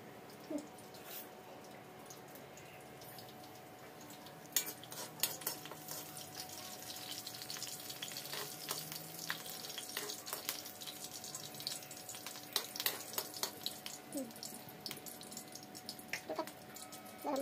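Mutton masala stirred and fried in a pan with garam masala and coconut: faint, steady frying hiss with scattered scraping and clinking stir strokes that grow busier partway through, heard at a distance without talk.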